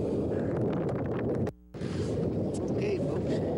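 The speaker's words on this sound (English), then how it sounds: "It's pretty windy out here." Strong wind buffets the microphone out on a lake during fishing, a loud continuous roar with gusty fluctuations and a brief sudden dropout in the middle.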